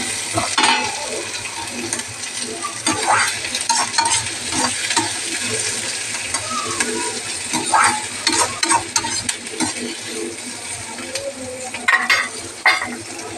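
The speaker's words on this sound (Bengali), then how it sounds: "এই যে পেঁয়াজটা ভেজে নেবো একটু আমি নাড়াই চাড়াই" Onions and boiled chickpeas sizzle steadily in a pan while a spoon stirs them, with scraping strokes rising over the continuous frying hiss throughout; no one speaks.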